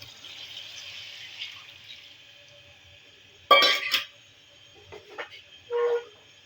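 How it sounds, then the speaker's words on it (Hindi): Water poured into frying chicken nihari masala in a pot gives a sudden loud hiss and splash up close, with smaller bursts of sizzling afterward over a faint steady hiss. "अब हम इसके अंदर पानी ऐड कर देते हैं।"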